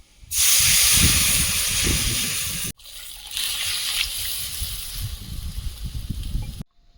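Loud, close sizzle and hiss as chopped onion and mustard paste hit hot oil in a pan, a steady spitting roar that breaks off briefly, resumes with crackling bursts, then cuts out.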